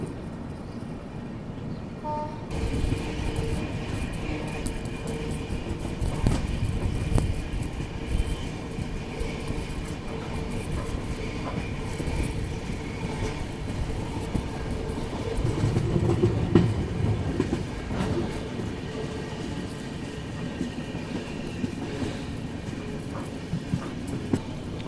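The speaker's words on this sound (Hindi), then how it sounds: "फ़िलहाल तो हमारी ट्रेन अभी पहुंचने वाली है चंदौसी रेलवे स्टेशन।" The Subedarganj–Dehradun Express runs on toward Chandausi station, a steady loud rumble of wheels and carriage with rhythmic rail clatter heard from inside the train, swelling briefly midway, with no talk.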